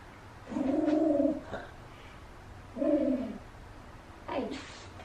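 Three low, throaty cooing calls, apparently from pigeons or doves, sound close by in separate bursts with pauses between them, against a quiet background.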